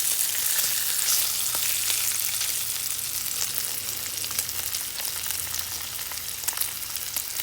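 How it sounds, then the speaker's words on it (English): Steady, close sizzling of ham frying in a skillet, a constant crackling hiss with occasional pops and no voices. "whenever you're frying your ham and it starts curling up"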